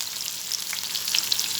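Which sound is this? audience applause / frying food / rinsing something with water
frying food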